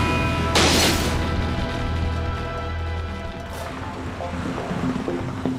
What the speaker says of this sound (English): Just as the cranes lower the roof, the wind picks up, causing real problems for Glenn.